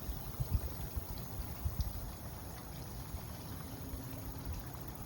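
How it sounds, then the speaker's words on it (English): A waterfall in an outdoor nature setting gives a steady, soft rushing wash that stays faint and continuous throughout, with a few low thumps. "As you can hear the waterfall."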